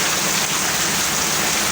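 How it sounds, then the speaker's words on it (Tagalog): Heavy rain pours down in a dense, even hiss that stays constant throughout, with no voices. "Kinakusugan ng ulan."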